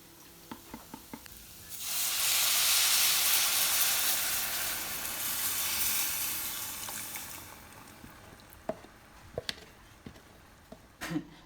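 Thick soup sizzles and bubbles loudly in a hot pot for several seconds, then settles into faint stirring clinks and scattered taps at close range.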